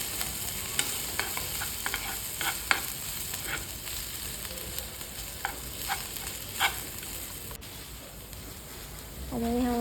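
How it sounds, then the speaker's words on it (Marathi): Moong dal and crushed garlic sauté in hot oil with a steady, soft sizzle, punctuated by scattered stirring clicks and scrapes of a utensil against the pan. "ही डाळ आपल्याला चांगली तेलात परतून घ्यायची आहे."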